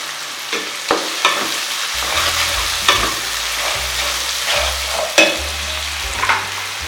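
Onions sizzle in a hot pan with salt and turmeric while a spoon stirs and scrapes in irregular taps, the frying steady and close with no voices.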